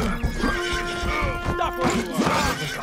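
A horse neighs in a medieval open-world video game, a loud close whinny rising and falling over a busy mix of game music, hoof clatter and impact effects.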